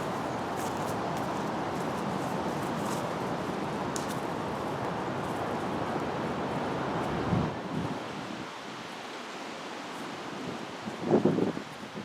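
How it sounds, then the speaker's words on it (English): Steady wind roars and buffets the microphone with a broad rushing noise, then eases off briefly before another gust rumbles through near the end. "it's a bit windy"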